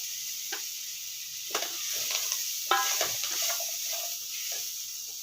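Capsicum and sweet corn fry in a pan with a steady close sizzle and hiss, broken by several scraping strokes of a spoon stirring the vegetables.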